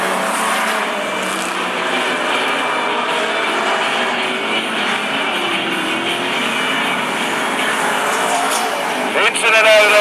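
Outlaw sprint sedan race cars at Mac's Speedway, a continuous roar of engines circling the track, loud and steady throughout with a commentator talking over it.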